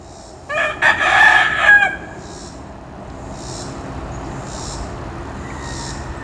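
A rooster named Rooster crows once loudly and close by in a yard. The single crow is followed by quieter background noise and faint distant sounds.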